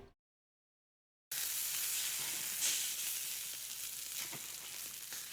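Food sizzles in a pan in a visual novel game, a steady crackling hiss that starts abruptly after a moment of silence and continues evenly.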